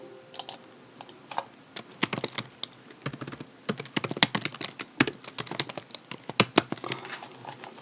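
Fingers type on a computer keyboard entering text into a PowerPoint slide, producing quick irregular clicking keystrokes in bursts, close and fairly quiet, with no talk.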